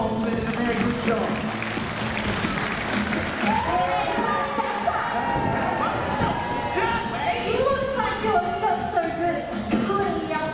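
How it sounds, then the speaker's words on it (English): Audience at a Sea World seal show on the Gold Coast applauds and cheers, a steady loud crowd roar with children shouting and voices mixed throughout. "Let's give those two SEALs a big round of applause for they did a very good job."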